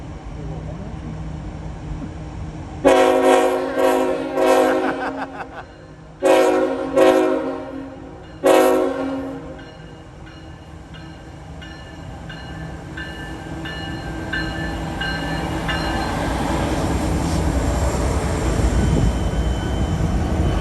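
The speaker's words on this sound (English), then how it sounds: "That's a garbage train." At night in Altoona, Pennsylvania, a train horn blasts several times in short and long bursts, then a heavy garbage freight train rumbles past, growing louder and grinding along the rails.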